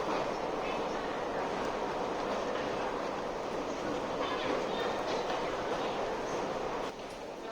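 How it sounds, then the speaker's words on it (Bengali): A Guangzhou metro train in a station gives a steady, close rumble and rolling wheel noise that holds, then drops off near the end, with voices murmuring underneath. "এই হলো চায়না গংজু মেট্রো।"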